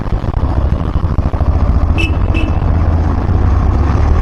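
Busy road traffic near Ghatkopar station, a loud continuous rumble of passing cars and motorbikes with a couple of brief high tones around the middle.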